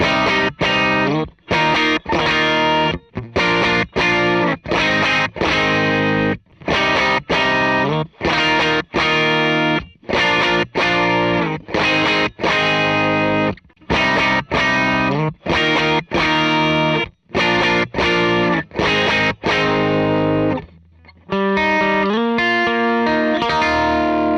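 Electric guitar driven through an RX Overdriver overdrive pedal, loud and gritty, played in rhythmic chord stabs with brief gaps between bursts, ending on a lower, sparser phrase.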